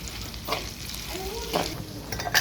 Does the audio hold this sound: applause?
no